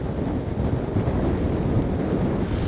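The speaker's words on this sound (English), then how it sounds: "Man, is it windy." Strong wind buffets the microphone at an RC jet flying field where a Freewing 80mm L-39 is being flown, a constant low rumbling roar with no clear engine tone above it.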